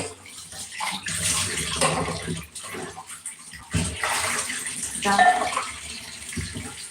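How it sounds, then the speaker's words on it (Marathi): Tap water running steadily into a container in the morning, a continuous broadband rush that swells and dips, with some voices faintly underneath. "पाणी आलेलं आहे पाणी भरते"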